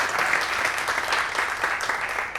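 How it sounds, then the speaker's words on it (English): Audience applause at an investor event in Chicago, a steady dense clapping from a crowd that holds evenly for a couple of seconds with no talk over it. "Can we get a round of applause for Paul and his team?"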